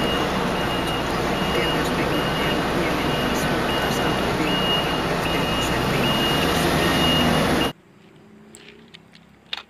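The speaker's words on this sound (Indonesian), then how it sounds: "Wow, ini ada mobil forklift." A toy forklift truck gives off steady, evenly spaced reversing beeps over a loud whirring motor, which stops abruptly near the end and leaves faint background noise.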